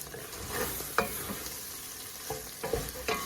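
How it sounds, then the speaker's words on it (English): Meat browning in a hot home-kitchen pan sizzles steadily up close, with a few sharp stirring scrapes and taps over the frying hiss and no talking. "Trying to get the meat like caramelized and brown."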